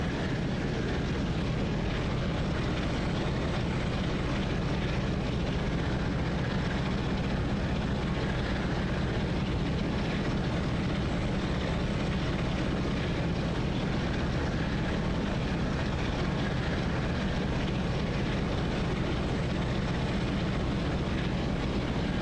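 A Class 45 "Peak" diesel locomotive under throttle in Train Sim World 5, on the Preston to Carlisle line. The engine thrashes with a steady, loud, continuous roar that holds for the whole stretch, with no talk.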